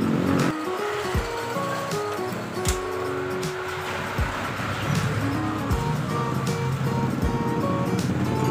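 Car engine running with a loose exhaust, a rough rumbling idle with uneven low pulses and rattly bursts, fairly close and loud throughout, with no clear speech.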